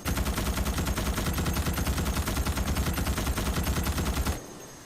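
Sustained automatic fire from the Morita SAW machine gun in Starship Troopers: Extermination, a loud, rapid, unbroken burst of shots lasting about four seconds before cutting off abruptly.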